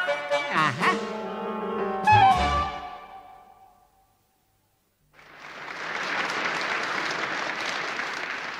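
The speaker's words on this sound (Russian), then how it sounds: "Вот так аплодируют ребята" Children applaud after a brief musical tone fades to silence, their clapping rising suddenly into a dense, steady ovation that continues to the end; an old 1976 radio recording.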